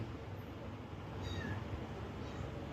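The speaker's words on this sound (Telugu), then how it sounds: "ఇంతకు ముందే ఒక చిన్న పిల్లి పసికందు మ్యావ్ మ్యావ్ అంటూ వచ్చింది ఇప్పుడు కూడా మ్యావ్ అంటూ ఉంది చూడండి" A small kitten meows faintly indoors in a room, a few soft high cries over steady background noise.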